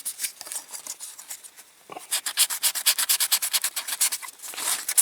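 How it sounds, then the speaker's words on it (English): Hand sanding deep scuffs on the inside of a Mercedes-Benz truck windscreen, a close, rhythmic rasping rub in quick back-and-forth strokes, pausing briefly before a faster run. "start sanding it, but they are very, very deep scuffs"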